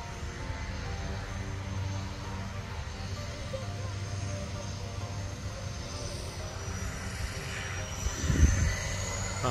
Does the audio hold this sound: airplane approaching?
yes